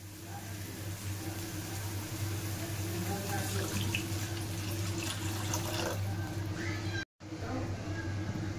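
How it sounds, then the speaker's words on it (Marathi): Water runs into a pan of manchow soup after ginger and garlic have been fried in oil, a steady, faint splashing pour with a low hum underneath. "तर आपण याच्यामध्ये आता ॲड करूया पाणी."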